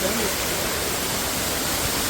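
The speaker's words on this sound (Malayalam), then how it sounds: "ഗൈസ് ഇതാണ് നമ്മുടെ അയ്യോ വെള്ളച്ചാട്ടം" Steady, rushing hiss of a low-flow waterfall in Thrissur that stays constant throughout, with no breaks or changes in level.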